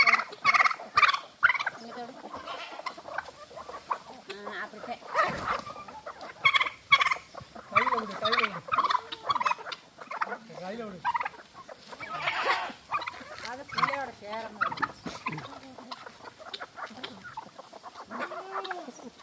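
A flock of chickens on a traditional poultry farm, clucking, squawking and calling densely and continuously at close range, with a few faint voices buried in the din.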